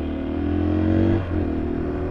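A KTM 500 EXC-F dirt bike with a dust-clogged air filter sits idling roughly off-road, its steady low thump briefly sagging and stumbling near the end before recovering, heard close up with no talk.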